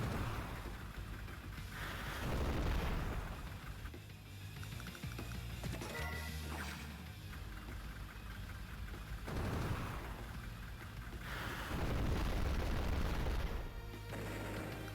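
Rocket attacks exploding in the Advance Wars: Days of Ruin strategy game, a run of loud, deep game booms and blasts that keep rolling through the whole stretch with no talk over them.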